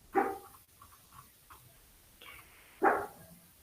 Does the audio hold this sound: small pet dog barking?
yes